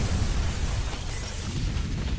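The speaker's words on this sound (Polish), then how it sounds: "I patrzcie na to, jaki piękny wybuch będzie." A video-game explosion in Rambo: The Video Game, a sustained deep rumbling blast with heavy low-end roar and broadband crackle, loud and steady throughout with no talking.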